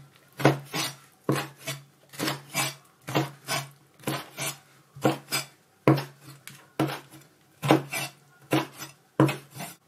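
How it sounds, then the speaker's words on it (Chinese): A knife chops washed kelp on a cutting board in a steady run of crisp strokes, about twenty cuts in quick groups of two or three, close and clear with no speech. "把清洗干净的海带我们给它切一下"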